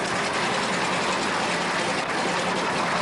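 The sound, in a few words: Westland Lysander aircraft engine running after start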